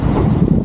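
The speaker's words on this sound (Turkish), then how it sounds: "Ay çok rüzgarlı." Strong wind buffets the microphone outdoors in London, a loud, low rumbling roar that stays constant through the short moment.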